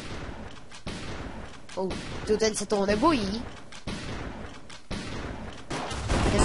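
Repeated gunshots in Minecraft Hypixel Cops and Crims ring out in close bursts at an irregular rhythm, while a player talks over part of the firing.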